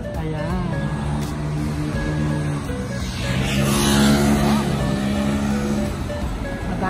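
Motor traffic, including motorcycles, passing along a street in Hamilton, Bermuda, with a louder vehicle sweeping by mid-clip amid a steady engine hum and some background talk.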